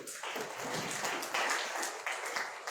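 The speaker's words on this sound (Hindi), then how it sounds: "जोरदार तालियां।" Applause from the audience at a prize distribution event, a steady wash of clapping running through the whole moment at moderate volume, with no voices over it.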